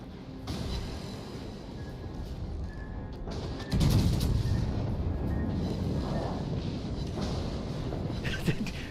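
Secondary guns on the battleship Bismarck fire at a Fletcher destroyer during naval combat in World of Warships: Legends. A dense, continuous wash of booms and crashes keeps going throughout, growing heavier partway through.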